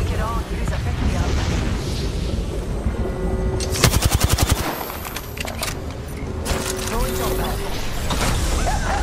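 Automatic weapon fire in the Apex Legends battle royale game, with a rapid burst of close, loud shots followed by more scattered gunfire and game effects, under constant busy in-game sound.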